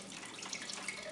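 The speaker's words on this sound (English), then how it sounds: "I just pour the whey into the bucket." Fresh cheese whey from homemade Monterey Jack cheesemaking pours from the pot into a bucket in a kitchen, making a steady, close splashing flow of liquid with no talk.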